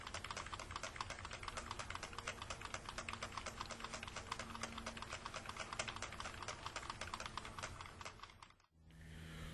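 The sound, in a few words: tapping on a computer keyboard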